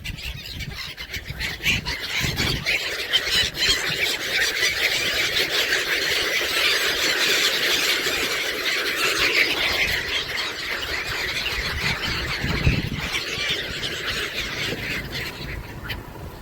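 Birds at Somnath squeal and call continuously in a dense, close flock, high shrill cries layered over one another with no speech.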